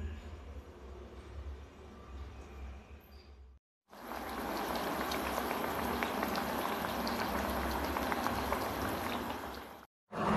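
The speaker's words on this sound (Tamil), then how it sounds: "சூடான எண்ணெயில் நம்ம போட்டு எடுத்துடலாம்" Black urad dal adai deep-frying in hot oil makes a dense, steady bubbling sizzle. A quieter stretch comes first, then the loud frying runs for several seconds before cutting off briefly near the end.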